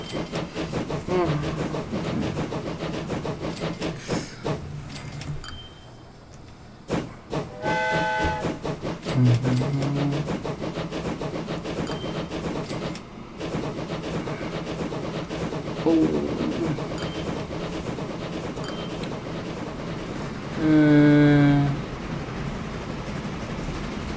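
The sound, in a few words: goods train running in the video game Train Fever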